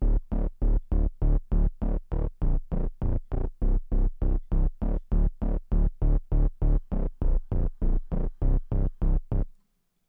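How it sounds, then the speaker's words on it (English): Synth bass made from a saw wave layered with a sine sub bass pulses in a steady run of about two dozen even, punchy notes, loud and alone, stopping abruptly near the end. "It's just a saw wave with some sine to help amplify the sound a bit as like a little sub bass."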